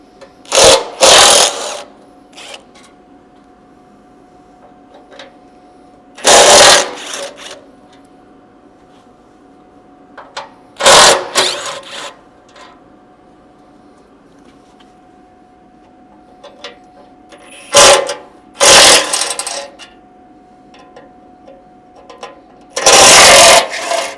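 A cordless driver with a T40 Torx bit backs bolts out of a Ford Bronco front bumper in short buzzing whirs, five separate bursts a few seconds apart with quiet pauses between them.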